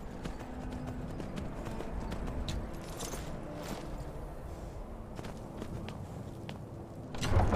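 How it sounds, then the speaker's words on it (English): Horse walking in the video game Skyrim, a steady slow clip-clop of hooves at moderate distance under a low ambient background, with no speech. "This is a slow horse."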